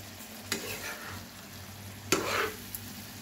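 Cabbage cooking in a pan with ghee and shahi garam masala, stirred in two sharp scraping bursts over a faint sizzle, with a small extra clink near the end, no talking.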